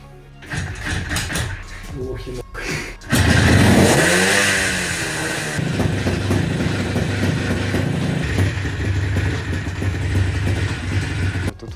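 An IZh Jupiter 4 motorcycle engine cranks a few times, then catches and revs loudly, settling into a sustained rough idle up close with a brief voice early on.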